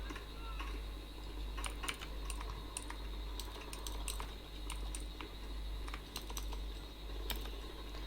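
Rapid, irregular clicks of someone typing on a computer keyboard, close and steady throughout against a low constant hum, with no talking.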